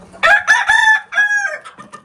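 Hens in a backyard coop, kept near newly hatched chicks, cluck loudly and close by in two drawn-out squawking bursts, with a short pause between them and no talk.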